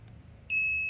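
A buzzer on a water level monitoring project built with a pump and LED indicators switches on midway, giving a steady, close electronic tone over a low background hum.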